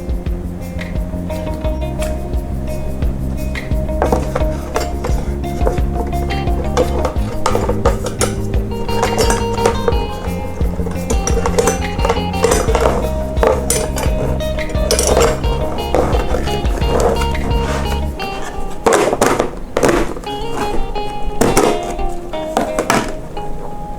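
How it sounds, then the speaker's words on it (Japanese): SOTO ST-301 single-burner gas stove shaken inside its storage case, giving metallic clinks and rattles that grow busier toward the end, heard close over steady background music. "振るとちょっとカチャカチャ音がします"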